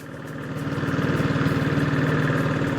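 A 1976 diesel Royal Enfield Bullet motorcycle engine runs while riding, a close, steady rhythmic thumping drone that swells in loudness over the first second and then holds.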